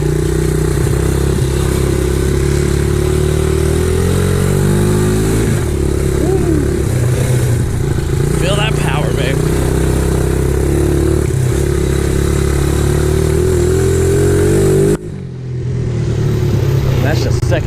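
A Red Kat 90 pit bike rides around a yard on a cold engine without choke, holding a steady mid-pitched putter with throttle changes, and people talk over it before a brief dip near the end.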